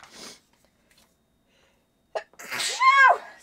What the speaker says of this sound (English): Apparently I have the sneezes.